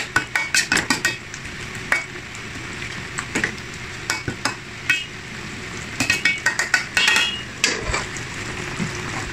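A spoon scrapes and clinks against a pot of sizzling pork and liver menudo, with rapid repeated stirring strokes in irregular bursts, close and fairly loud, with no talking.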